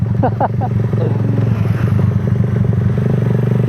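Loud, steady motorcycle engine note from a Honda Raider 150, running close by throughout with a continuous throaty drone and a few brief rising revs near the start.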